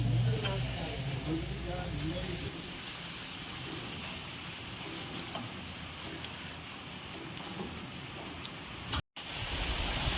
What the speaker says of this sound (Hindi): लेकिन बारिश हो रही है यार